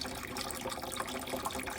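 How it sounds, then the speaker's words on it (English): Water runs steadily into a big bin set up to catch floodwater in a château, a continuous close splashing wash with no voices. "But we're running the water into this"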